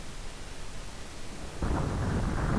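Car in BeamNG.drive, a front-engine front-wheel-drive vehicle, slamming into an obstacle: a steady low rumble that jumps suddenly to a loud, broad crunching roar partway through and holds, with no talking.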